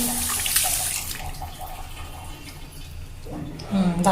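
Water runs steadily from a tap in a continuous splashing hiss as a child washes face and mouth, with a voice speaking briefly near the end.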